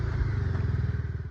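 A motorcycle rides a rain-slick road in Oman, its engine heard close and steady as a fast, even pulsing throb.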